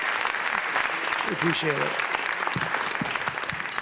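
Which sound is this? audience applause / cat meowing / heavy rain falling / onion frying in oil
audience applause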